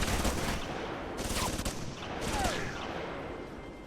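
Bursts of turret gunfire in the video game Alpha Protocol, two sharp volleys of shots over a dense, continuous roar of game noise, with no one speaking.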